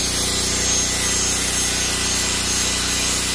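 A brush scrubs upholstery solution into an area rug, producing a steady, continuous rubbing and scratching that runs close and loud for the whole stretch, with an underlying motor-like drone and no voices.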